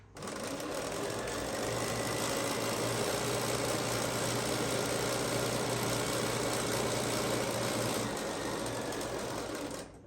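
Sewing machine stitching a quilt block pillow, a steady close mechanical whir with rapid needle rhythm that runs nearly unbroken for about eight seconds before stopping.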